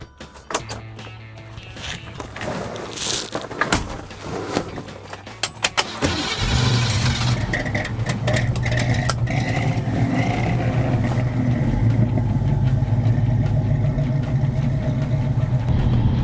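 A 1968 Ford Mustang California Special heard up close: door and cabin clunks and clicks, then the engine cranks, catches and settles into a loud, deep, steady idle rumble.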